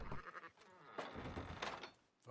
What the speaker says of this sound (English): Sheep, they're okay.